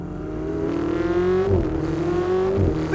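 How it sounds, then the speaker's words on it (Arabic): A 2016 Ferrari 488 Spider engine accelerates, its rising whine climbing through two gear pulls with a brief shift dip between them, close and strong, with no talk. "مين بنزعج من صوت فراري؟"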